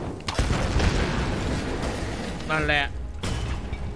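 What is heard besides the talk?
explosion blasting a path open in video game Tomb Raider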